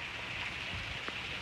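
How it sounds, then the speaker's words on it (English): Steady rain falls in Oklahoma, a continuous broadband hiss of drops striking surfaces that runs unbroken through the moment, close and even in loudness with no voices. "But I just love watching the rain."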